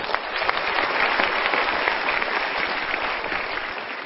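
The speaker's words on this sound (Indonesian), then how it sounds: "Kita berikan tepuk tangan." An audience at a motivational talk applauds, a thick, even wash of many hands clapping that holds steady throughout, moderately loud and without speech.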